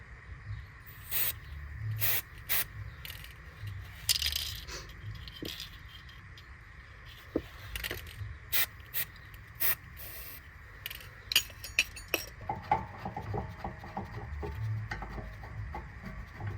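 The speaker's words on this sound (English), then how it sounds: "you can use a copper spray and spray it" Copper spray applied to the rear brake parts of a Mazda 6 2.2 Skyactiv diesel, heard as short, quiet hissing spray bursts interspersed with faint clicks and handling noises in a quiet workshop.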